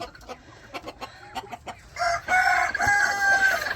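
A hen clucks in short sharp bursts after laying an egg, then breaks into a louder sustained cackle close by, with no talk.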